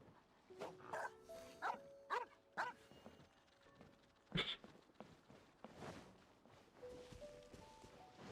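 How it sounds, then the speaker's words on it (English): Dogs in Genshin Impact let out a quick run of short, yelping barks, then a single sharper bark and a few fainter whines, all fairly quiet and distant. "Cute dog."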